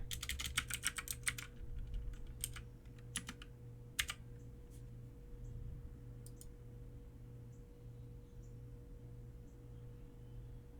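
Computer keyboard typing JavaScript code, quick bursts of clicky keystrokes at first, then sparse isolated key presses over a low steady hum, close and fairly quiet.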